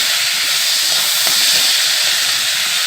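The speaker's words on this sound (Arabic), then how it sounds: "هنقلبه كده نشوحه الاول، نشوح الرز كده" Rice sizzling as it is sautéed in a pan with ghee, oil, black pepper and salt, a steady loud hiss filling the clip with faint stirring scrapes underneath and no talking.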